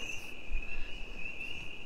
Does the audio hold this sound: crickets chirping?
yes